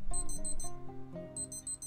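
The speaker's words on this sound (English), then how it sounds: "it will beep at the target time for the elapsed time" A Casio AE1300 digital watch sounds its stopwatch target-time alert: a quick, close electronic beeping in two short bursts of rapid chirps separated by a brief pause.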